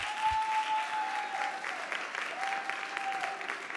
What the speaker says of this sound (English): Please give them a round of applause, everyone.